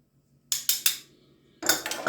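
Sharp metal clinks of a utensil against a pan while garlic, parsley and thyme are stirred, three quick taps, then a pause and a rougher scraping clatter, close and alone.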